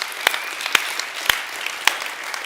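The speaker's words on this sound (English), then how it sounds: "Yeah, we can clap for that." An audience at a church recovery gathering claps, with a few sharp, well-spaced handclaps standing out near the listener over a faint, thin patter of clapping behind.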